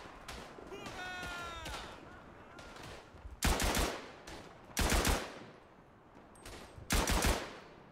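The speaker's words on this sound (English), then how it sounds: "So let's pick up the machine gun." Machine gun fire in the World War I shooter game Tannenberg, heard as three loud bursts spaced a second or two apart, with fainter battle noise and a whistling sound between them.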